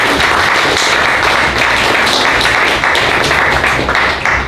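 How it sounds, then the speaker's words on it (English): An audience at the House of Umoja Piton International Film Festival gives a loud, sustained round of applause, many hands clapping densely and evenly throughout. "So let's give him a round of applause"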